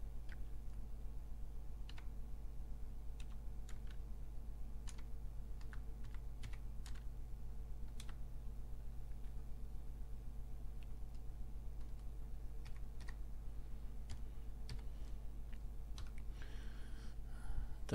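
Keyboard typing on a computer as a Wi-Fi network name is entered, sparse scattered key clicks over a steady low electrical hum, fairly faint and close.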